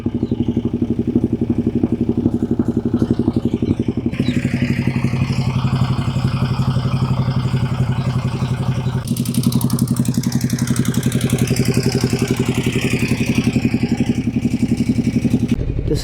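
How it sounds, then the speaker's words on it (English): A 2012 Ducati Diavel with 34,000 miles idles loud and close after starting, a steady throbbing engine rumble with slight surges and no voices. "This is what a Ducati Diavel sounds like."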